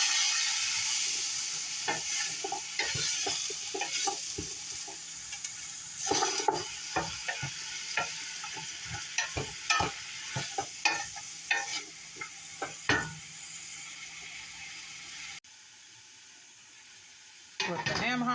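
A ham hock sizzles as it sautés in a pot, with a steady frying hiss and repeated scraping, clinking strokes of a spoon stirring it nearby; the sizzle drops out briefly near the end.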